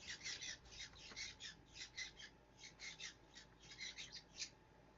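A pet bird kept indoors gives a run of harsh, rasping squawks in quick rhythmic bursts, faint and close, with no one speaking.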